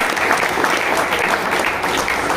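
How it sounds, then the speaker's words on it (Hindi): Audience applause at a tournament prize distribution in Udgir, a dense, steady burst of clapping from a crowd filling the whole moment at close range. "ताली बजाएं"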